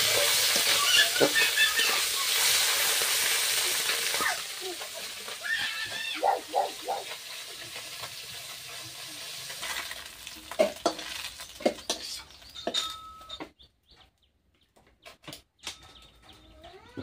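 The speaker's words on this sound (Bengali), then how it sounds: "মাছটা ভাজার জন্য তেল দিয়ে দিলাম।" Fish fries in hot oil with a loud, close sizzle that fades to crackles and scattered pops, with stirring clatter and brief voices over it.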